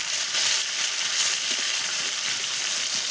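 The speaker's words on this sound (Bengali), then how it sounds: "ভাজা হয়ে গেছে, এখানে মাছটা পাল্টে করে নেবে।" Fish frying in hot oil on a clay stove, giving a loud, dense, continuous sizzle with crackling spits, close and steady throughout.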